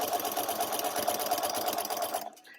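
A sewing machine stitches binding onto a quilt, running at a steady, fast, even pace for about two seconds before stopping abruptly, close and clear with no talking.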